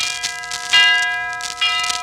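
A ringing bell at midnight strikes twice, each a clear metallic ding with long overtones that slowly fade, and a softer tap comes before them.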